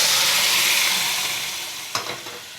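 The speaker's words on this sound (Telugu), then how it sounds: "పోపు అయితే బాగా ఫ్రై అయిపోయిందండి." Tempering (popu) spices frying in a small amount of oil for a tomato dal, a steady close sizzle that slowly fades, with one brief stir or utensil clink near the end.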